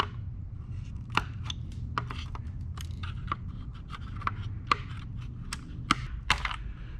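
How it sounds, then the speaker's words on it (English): Snips cut a plastic piece off interior chrome trim, producing a string of crisp, close clicks and cuts spaced irregularly over a quiet background hum. "we'll go ahead and snip that off because on the new one we won't be needing it"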